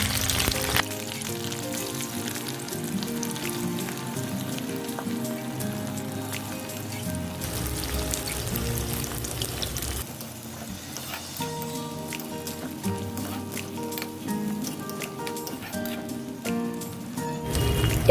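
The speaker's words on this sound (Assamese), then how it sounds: "এতিয়া মই পিঁয়াজ দি দিছোঁ।" Onions frying in hot oil with bay leaves, cinnamon sticks, five-spice seeds and green chillies, a continuous soft sizzle with faint crackles, steady and close, no talking.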